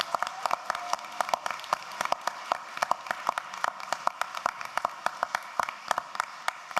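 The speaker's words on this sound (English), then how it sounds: "Can we give them another round of applause once again?" Applause at a regular school board meeting in Tuscaloosa, a room of people clapping steadily with sharp, dense hand claps throughout, fairly close and sustained without talk.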